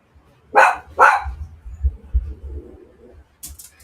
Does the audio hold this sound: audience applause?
no